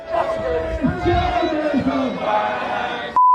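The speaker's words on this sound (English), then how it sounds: "The crowd were heard chanting against the Labour government and Sir Keir Starmer" A large protest crowd of a thousand or more rallies against the Labour government, many voices chanting and shouting together in a rough, loud roar before a sudden electronic tone cuts in at the end.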